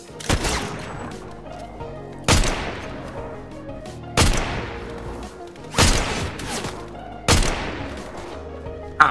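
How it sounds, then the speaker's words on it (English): Gunfire in the video game Fortnite, with five loud, sharp shots spaced about two seconds apart, each trailing off in a short echo, and no talking. "They're shooting at me"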